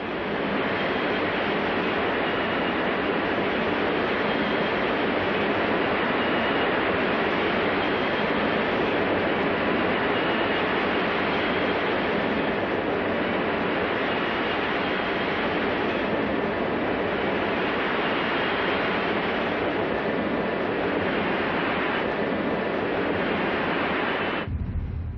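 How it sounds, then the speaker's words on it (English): A Santa Fe diesel passenger train runs east of Garden City, Kansas near a tall grain elevator, its steady, loud roar holding unbroken for about twenty-five seconds with no voices. "An unidentified Santa Fe passenger train moves right along east of Garden City, Kansas at milepost 402."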